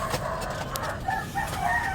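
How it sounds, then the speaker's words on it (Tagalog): A rooster crows in drawn-out calls at moderate distance, with a few sharp knocks and clucks around it. "Papakain muna tayo ng manok."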